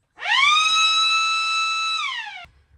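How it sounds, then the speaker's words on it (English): A small electronic anti-theft alarm siren wired into a Land Rover Series 3 sounds one loud, steady, piercing tone for about two seconds, then drops in pitch and cuts off. "This is a little siren. I'm going to show you how to wire that up so that if anybody comes along and tries to steal your vehicle, they will hear this noise."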